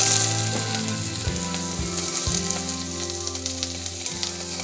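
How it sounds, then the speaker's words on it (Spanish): Onion frying in olive oil in a pan, a steady close sizzle running throughout with low continuous bubbling and faint clinks, no voices. "vamos a poner un poquito de aceite de oliva, y vamos a poner lo que es la cebolla"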